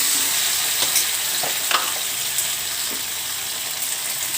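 Green chillies and tomatoes sizzle steadily in a hot pan for tomato chutney, a loud close hiss with occasional stirring clicks and scrapes, no talk.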